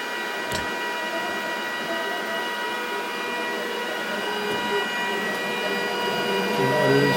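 A computer-controlled printer/cutter machine runs steadily for several seconds with a loud, constant mechanical whir and hum, getting slightly louder near the end, with no talking.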